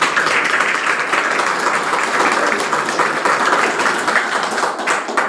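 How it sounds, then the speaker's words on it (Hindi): A lecture-hall audience breaks into loud, sustained clapping that holds steady and dense for the full stretch, with no voices breaking through. "ताली बजाइए एक बार जोरदार"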